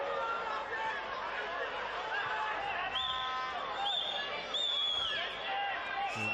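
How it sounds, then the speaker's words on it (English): Stadium crowd at an NPL men's grand final between Moreton City Excelsior and Lions FC, a steady loud roar with high whistling rising through it near full time, with a commentator talking over it. "And the crowd starting to ask for that full-time whistle."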